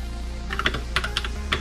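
Typing on a Royal Kludge RK96 mechanical keyboard with pre-lubed yellow switches, a handful of soft, close keystroke clacks arriving in small irregular bursts over a steady low hum.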